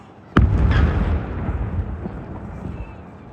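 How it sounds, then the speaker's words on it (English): A single loud cannon boom from a gun salute on a harbour jetty in Tromsø on Norwegian Constitution Day, followed by a long rolling echo that slowly fades. "At noon, a gun salute echoed from the harbour's northern jetty."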